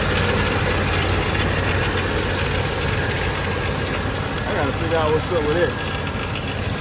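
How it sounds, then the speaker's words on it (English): A 1989 GMC Sierra truck engine idles close by with a busy mechanical clatter consistent with a rattling pulley, steady throughout while someone speaks briefly over it. "One of them damn pulleys rattling like hell."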